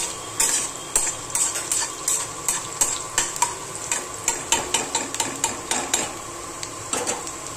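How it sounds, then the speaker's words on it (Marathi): Onion frying in a pan for a green chili and garlic chutney, a spatula scraping and tapping the pan in a quick regular rhythm over a continuous close sizzle. "आता इकडे हा कांदा चांगला फ्राय होऊन द्यायचा."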